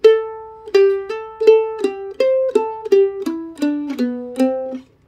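Mandolin plays the closing phrase of the fiddle tune Billy in the Lowground, a run of about a dozen clear, close picked notes in steady rhythm with ringing overtones, alone and without talk, ending on a short slide.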